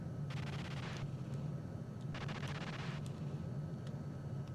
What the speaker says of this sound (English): Here's the machine gun here.